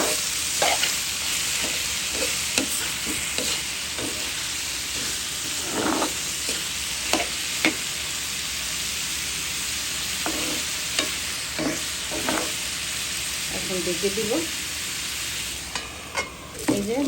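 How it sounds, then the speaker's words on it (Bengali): Half-boiled papaya pieces with whole green chilies frying on low heat in a pan, soft continuous sizzle with repeated scraping and stirring strokes of a spatula, close, with a brief spoken line. "এখন আস্তে আস্তে অল্প হিটে পেঁপে ভাজিটা"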